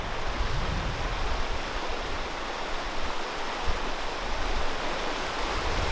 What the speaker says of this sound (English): And then I stopped by this really cool river.